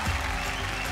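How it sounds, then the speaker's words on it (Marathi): A brief, dense burst of audience clapping at a trophy presentation on a Marathi TV show, steady and close, lasting under a second. "मंडळी, जोरदार टाळ्या झाल्या पाहिजेत."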